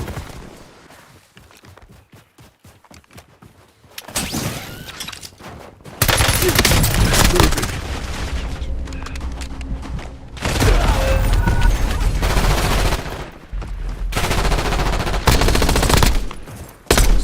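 Gunfire from the video game Warzone comes in loud bursts of rapid shots and fusillades, separated by quieter stretches with faint footsteps and mechanical clicks.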